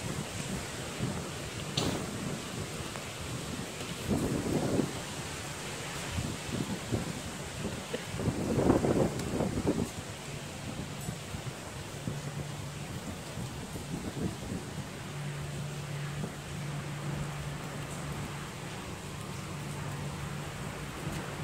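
Typhoon wind on a building rooftop buffets and roars against the microphone in gusty surges, mixed with rain-like hiss and a faint low drone, loud bursts rising and falling throughout without talk.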